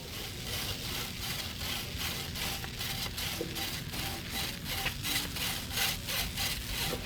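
Bubble hash resin being sifted as a screen is tapped, a continuous dry scratchy rubbing with rapid repeated taps, close and steady throughout with no talking.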